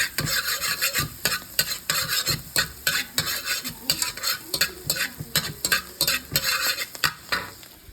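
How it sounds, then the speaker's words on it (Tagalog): Minced garlic browns in butter in a hot pan for a mussel dish, a loud steady sizzle broken by quick, rhythmic scraping of a utensil stirring against the pan. "Para masarap, brown natin yung garlic natin."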